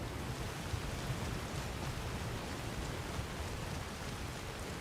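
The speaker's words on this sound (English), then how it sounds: "That's also why the weather is so dramatic and rainy and stormy and everything now." Rain and stormy weather in the video game Skyrim, a steady, dense hiss of rainfall that continues unbroken with no voices.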